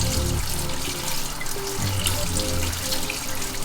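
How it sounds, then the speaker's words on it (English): Hand rinsed under a running kitchen faucet, water pouring steadily and splashing close by with shifting tones as the hand moves in the stream. "I'm gonna rinse my hand off a little bit."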